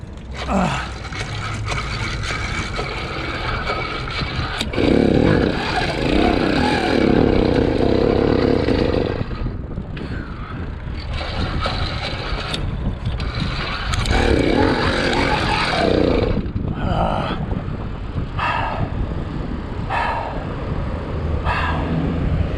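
A motorized bicycle's small engine running rough and uneven after a jet change, with loud surges and sputters that come and go over about twenty seconds.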